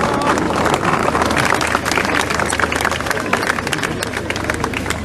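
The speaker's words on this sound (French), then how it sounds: "Je vous prie d'applaudir." An audience applauds at the inauguration of Place Slimane Azem in Paris's 14th arrondissement, a dense, steady wash of clapping and crowd noise throughout, loud and near, with voices mixed in.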